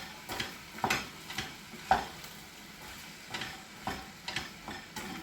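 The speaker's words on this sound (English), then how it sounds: "I'm going to give this a good stir" Beans are stirred in a cooking pan, giving a run of soft scraping and tapping strokes at an uneven rhythm over a faint sizzle, close by, with no one talking.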